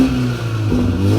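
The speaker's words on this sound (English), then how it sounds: "And here are some revs to 4K." A BMW 330i with its stock downpipe revs toward 4000 rpm, a loud, close engine note that rises briefly, dips and climbs again in a short burst.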